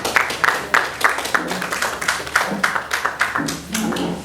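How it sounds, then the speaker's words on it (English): A conference audience at an event on opportunities in Africa, held in Ghana, gives a round of applause that settles into rhythmic, evenly spaced claps for about four seconds, close and fairly loud. "Let's give a round of applause."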